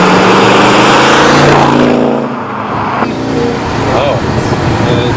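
A Ford GT 351 XB travels at around 100 miles an hour on a motorway, a loud engine roar and wind rush that sweeps and shifts throughout, with a voice speaking over it.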